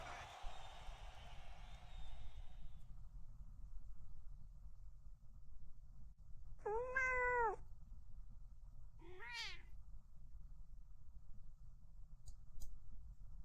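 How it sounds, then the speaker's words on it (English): A cat meows twice, clear rising and falling cries a couple of seconds apart, after a burst of louder sound at the start, with quiet room noise between and a faint click near the end. "Lots and lots of meowing."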